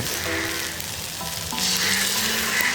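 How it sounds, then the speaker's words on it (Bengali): Spice masala sizzling in a pan while being stirred for a Bengali village-style fish curry, a continuous loud fry with the hiss growing brighter in the last second. "এবারে একটু নাড়াচাড়া করে নিয়ে দিয়ে দেবো দুটো টমেটো বাটা"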